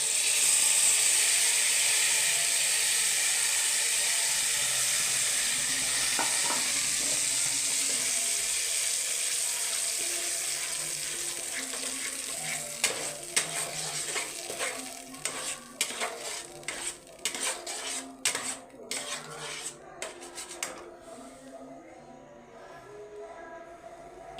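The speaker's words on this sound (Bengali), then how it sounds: "এই ডাল সেদ্ধটা এবার আমি দিয়ে দেবো।" Boiled, ground mung dal paste tipped into hot oil in a wok, opening with a loud, broad sizzle that slowly fades, followed by many sharp scraping and clinking stirs of a utensil against the metal.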